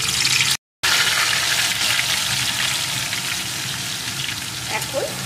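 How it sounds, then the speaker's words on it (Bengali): Onion paste fries in a pan for chicken rezala, a loud, close, continuous sizzle that hisses steadily with a brief dropout near the start. "এখন পেঁয়াজ বাটাটাকে একটু ভেজে নেব যতক্ষণ না এর কাঁচা গন্ধটা দূর হয়ে যায়।"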